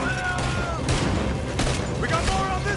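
Gunfire during a shootout in the video game Red Dead Redemption 2, a loud ragged fusillade of overlapping shots and bangs mixed with shouting voices.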